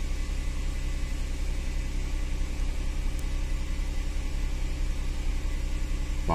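A pump on an Audi Q5 runs during a VCDS functional test, making a steady, low, droning hum with a faint buzz. The hum holds an even level throughout and no one speaks.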